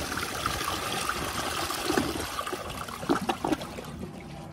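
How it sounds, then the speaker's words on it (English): A 2008 American Standard Cadet 3 toilet with an overfilling tank is flushed, giving a strong, continuous rushing swirl of water up close that breaks into gurgles and drains toward the end, with no talking. "so let's give it a flush"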